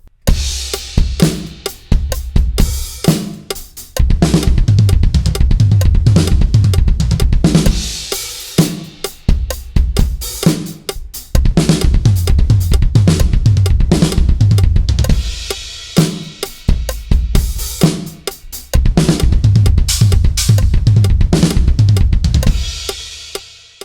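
A drum fill moves around the kit, with rapid strikes across snare, toms and bass drum. Loud cymbal crashes mark the phrases in several bursts, close and energetic, with no talking.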